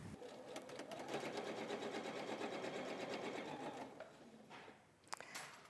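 A sewing machine runs steadily for about four seconds, joining quilt pieces for a flowery wall hanging, then stops with a few short clicks and handling sounds.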